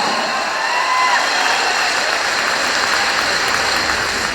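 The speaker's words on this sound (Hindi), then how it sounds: "तो तालियां ऐसे नहीं, हाथ उठा के बजाओ, जानदार तालियां" Large audience at a network-marketing convention claps with raised hands, a loud, even wall of applause that holds steady throughout without letting up.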